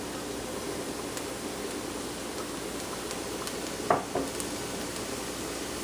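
Peppers, leeks and onions sizzle quietly in a pan as a steady, faint hiss, broken once by a short clatter of a utensil against the cookware.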